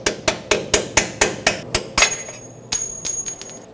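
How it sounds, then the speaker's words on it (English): A hammer strikes a punch to drive a front shock bolt out on a 2004-2012 Chevrolet Colorado 4x4, giving about ten sharp, evenly spaced metallic blows up close, with a ringing tone lingering as the last hits slow and soften. "Use a punch to drive it through the rest of the way."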